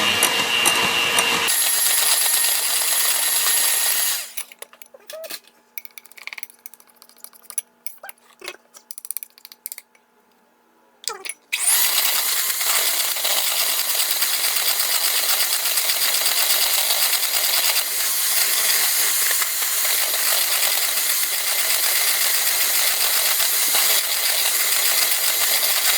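An electric mixer beats Betty Crocker Heath dessert bar mix powder in a bowl, a loud steady whirring that stops for several seconds of light clinks and scraping, then resumes for a long, even run.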